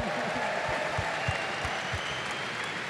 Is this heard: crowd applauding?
yes